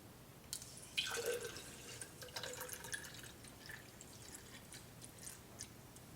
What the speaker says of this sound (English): we're going to go ahead and fill the bottle up